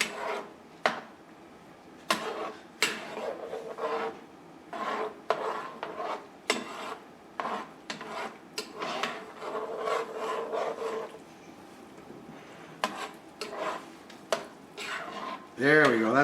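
Spoon stirring creamy garlic butter sauce in a pan, a series of short scraping and rasping strokes in an uneven rhythm, close and moderately loud, with a person talking between strokes.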